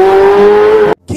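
A Ferrari sports car engine holds a loud, steady high-pitched rev for nearly a second, then cuts to a sudden silence before a brief burst of noise returns.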